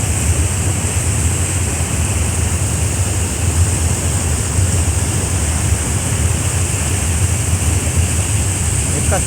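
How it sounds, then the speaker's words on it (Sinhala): A waterfall cascades down over rocks in a loud, unbroken roar of rushing water, a dense steady wash of sound that stays even from start to finish. "මෙතනින් වතුර ඇවිල්ලා ඔන්න ඇල්ල පහළට ගල් පරෙන් පහළට කඩා හැලෙනවා"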